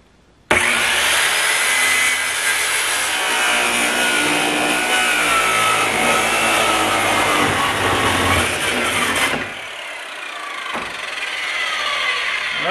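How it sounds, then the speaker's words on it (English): A circular saw bites loudly into a 55 gallon steel drum, a harsh, sustained screaming cut that holds for about nine seconds, then drops away abruptly and leaves a quieter whirring tail. "Now the first thing we're going to try is a circular saw."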